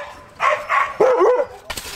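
Siberian huskies at a sled dog kennel in snowy Lapland, giving a few close, loud barks and yips in quick bursts over about two seconds, with a sharper cry near the end.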